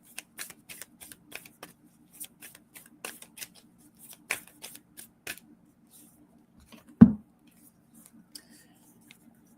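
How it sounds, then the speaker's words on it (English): An oracle card deck being shuffled by hand, a steady run of soft, quick card flicks and riffles close up, followed by one louder thump near the end, with no talk over it. "These are not wanting to shuffle right this morning."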